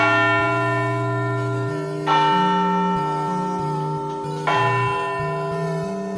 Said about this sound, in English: Will hears the distant chime of the town clock chiming midnight